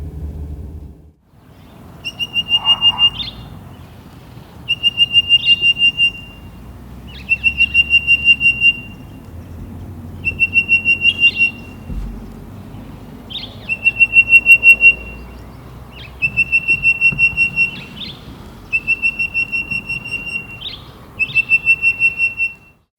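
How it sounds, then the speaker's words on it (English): An orange-breasted bushshrike calls repeatedly in a suburban garden in Ruimsig, giving clear, loud, evenly spaced bursts of rapid whistled notes about every two seconds, with faint low background rumble between phrases. "more importantly, orange-breasted bushshrike."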